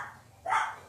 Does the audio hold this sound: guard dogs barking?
yes